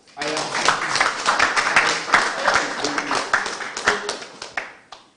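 Studio audience on a Ghanaian afternoon television talk show applauds steadily for about five seconds, dense close clapping with a voice talking over it before it tapers off.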